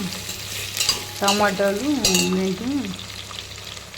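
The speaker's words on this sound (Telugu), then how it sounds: "ఇంకొకసారి మొత్తం కలుపుతున్నాను" Tomatoes and other vegetables sizzle in a pan while a spoon stirs them through, a steady close frying hiss with scraping, as a voice speaks briefly over it.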